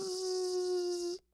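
A voice imitates a buzzing toy with one steady, nasal, reedy hum held for about a second before cutting off, close and alone.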